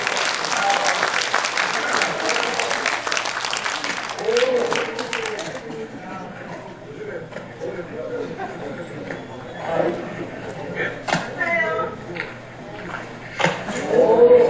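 Attendees at a Rotary District 3680 club presidents and secretaries training seminar applaud loudly for about five seconds, then the clapping dies away and a speaker talks over a faint murmur.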